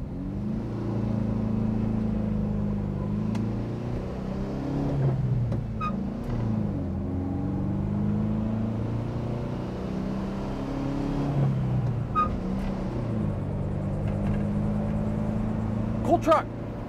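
The engine of a 1986 Volkswagen pickup idles steadily at a traffic light, a low, even rumble running throughout with faint passing traffic.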